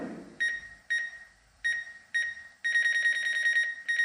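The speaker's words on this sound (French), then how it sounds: "C'est le détecteur d'obstacles qui bip comme ça" A DJI drone's obstacle detector beeps in short electronic tones, first four separate spaced beeps, then a faster continuous run of rapid beeps, clear and fairly close with no voices.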